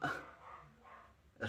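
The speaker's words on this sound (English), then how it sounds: "I am sorry for the mad barking." A dog gives a couple of short, faint barks at the start and end, with quiet indoor sounds in between and a brief spoken word.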